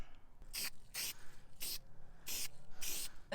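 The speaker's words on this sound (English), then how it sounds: "we might be able to get away with just spray painting them black" Black spray paint hisses from an aerosol can onto the corners of a Jeep Wrangler JLU Rubicon rear bumper in short, repeated bursts, about six close sprays separated by brief pauses.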